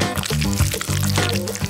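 Boiling water poured to dilute chocolate for decorating a cake, a short gurgling, bubbly pour with shifting liquid tones lasting under two seconds, close and moderately loud.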